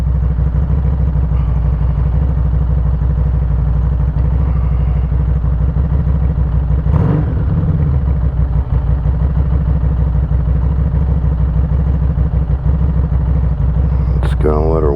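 Harley-Davidson motorcycle engine idling while warming up, a loud, close, steady low rumbling throb with a brief rise midway and a short squeal near the end.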